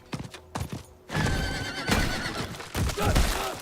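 A horse in the Diablo 4 video game whinnies loudly over steady clip-clopping hooves, with several sharp snorts and neighs rising above the galloping rhythm, close and clear without talk.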